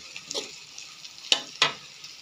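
Wood ear mushrooms and egg stir-frying in a pan: a faint, steady hiss with a few soft clatters, then two sharp metallic scrapes of a utensil close together near the end.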